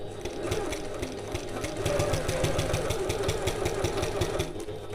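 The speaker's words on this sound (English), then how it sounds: "So I'm sewing at a 1/4 inch or 6 mil from the edge" A sewing machine runs continuously, stitching a quarter-inch seam along the edge of fabric for a satchel, its needle giving a fast, even mechanical clatter over a low motor hum, close and steady throughout.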